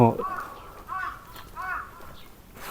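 Crows caw in a series of raucous calls near a wooded trail in Kamakura, Japan, with three or four harsh caws spaced about half a second apart over quiet background.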